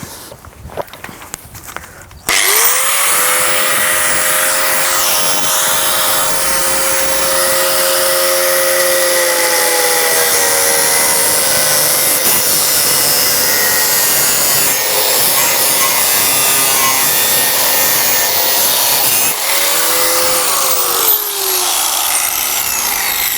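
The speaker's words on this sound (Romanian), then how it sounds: "Eu, pentru că mă grăbesc, voi face toată treaba asta cu un flex." An angle grinder cuts through a plastic plant pot in a garden for planting a fruit tree or rose: a loud, sustained high whine and abrasive hiss that runs nearly continuously, briefly dipping near the end before resuming.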